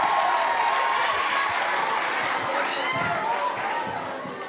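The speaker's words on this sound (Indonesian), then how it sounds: "Ya tepuk tangan dulu buat Mbak yang ini." Audience applause at a speaking event, a crowd clapping steadily with chatter and voices mixed in, fading slightly toward the end.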